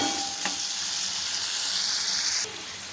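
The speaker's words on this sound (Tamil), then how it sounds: "இந்த வெங்காயம் தக்காளி எல்லாமே கொஞ்ச நேரத்துக்கு அப்படியே நல்லா வதங்கி வரட்டும்" Steady, close sizzling of small onions and tomatoes frying in hot oil, with a brief stirring clink and the hiss dropping slightly near the end.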